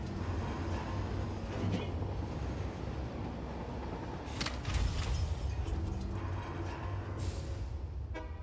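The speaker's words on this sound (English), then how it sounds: "we might as well take a trip on the train" Train ride in the video game Satisfactory, with a continuous low rumbling rail hum and a few sharper clanks and hisses along the way, fairly quiet and steady throughout.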